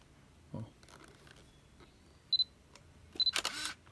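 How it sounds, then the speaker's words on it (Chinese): Canon EOS Kiss film SLR camera shutter firing indoors: a soft click, then two short sharp double bursts a second apart, the last with a louder mechanical snap and whir, close and alone without talk. "可以听到哈，快门正常哈"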